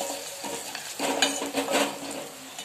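Tempering of garlic, curry leaves, asafoetida and turmeric sizzling in a pan for a Ganesh Chaturthi dal, a soft steady crackle with scraping stir strokes and light utensil clinks, close by, no voices.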